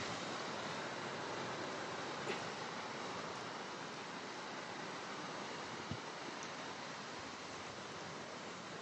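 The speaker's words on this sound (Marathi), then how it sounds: "मस्तपैकी आता ही भरती येते समुद्राला, लाटा तयार करते." Incoming high-tide sea waves wash onto a beach as a steady, dense roar of surf, continuous and fairly loud throughout with no voices.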